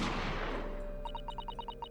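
A gunshot in the courtroom adventure game The Great Ace Attorney bursts out at the start and decays into a long fading rumble, followed by a quick series of soft rhythmic game blips.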